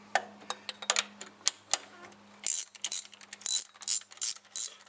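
A 13 mm ratchet wrench snugging down thermostat housing bolts on a 2002 Dodge Dakota, with sharp rapid clicking bursts of the pawl up close, some quick strokes and short pauses between them.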